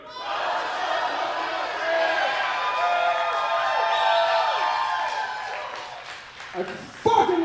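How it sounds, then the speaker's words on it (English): A comedy show audience at the Roadshow Tokyo Drift yells and cheers together for several seconds, a dense roar of many voices that fades near the end. "I want you all to yell Roadshow Tokyo Drift and give me a nice big cheer"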